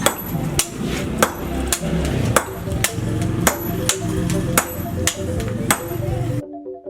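A village blacksmith in Tukadaya, Bali, hammers metal with steady, loud ringing blows about every half second, each strike leaving a metallic ring over a busy workshop background.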